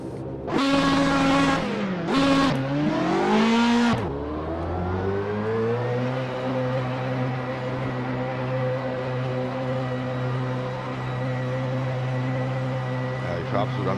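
Race car engine in Assetto Corsa, played online in VR, revving hard through gear changes with rising and falling pitch, then a sustained loud high-revving drone as the car is driven at the limit.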